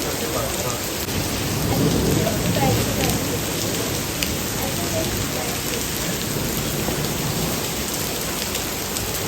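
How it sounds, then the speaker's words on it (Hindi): Heavy rain with hail pours outside during a night-long storm, a dense, loud and continuous hiss and patter that fills the scene without a break. "और अब मैं आपको जो है ना बारिश की आवाज़ भी सुनाती हूँ और ओले भी दिखाती हूँ।"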